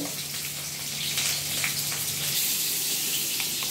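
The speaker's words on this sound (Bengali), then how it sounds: "প্রথমে আমরা কড়াইতে দিয়ে পটলগুলো ভালোভাবে ভেজে নেব" Salted, turmeric-coated pointed gourds fry in oil in a wok with a steady, bright, close sizzle and crackle, alone and unbroken by talk.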